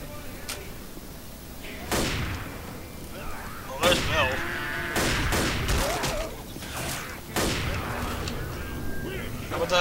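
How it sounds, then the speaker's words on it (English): Gunfire in Left 4 Dead, several sharp loud shots spaced a second or two apart over game noise, with someone talking between bursts. "I just shot him in the ass"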